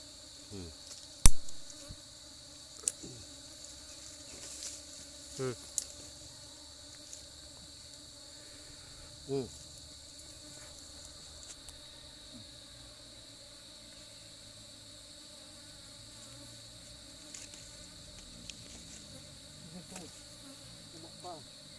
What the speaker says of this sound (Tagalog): Bubuyog.